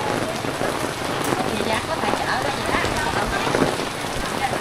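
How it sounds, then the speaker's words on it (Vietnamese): Rain falls steadily at a market in Cái Sơn, Phụng Hiệp, Hậu Giang, a dense patter of drops on surfaces, close and constant, with faint voices in the background. "Này mưa quá"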